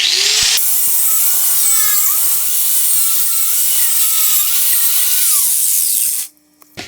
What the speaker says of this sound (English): So a bit of rubbing down with the angle grinder